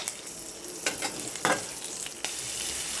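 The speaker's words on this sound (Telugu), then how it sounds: "ఇలా ఒక ప్యాన్ తీసుకొని అందులో ఒక గంట ఆయిల్ వేసి పోపు పెట్టుకోవాలి" Cumin and curry leaves temper in hot oil in a pan, producing a loud continuous sizzle with sharp crackles and pops, heard close and without talk.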